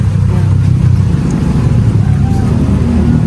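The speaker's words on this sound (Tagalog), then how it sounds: "Sasakyan." Car passing by on a road, a loud close rumbling engine and road noise that stays steady throughout, with no clear talking.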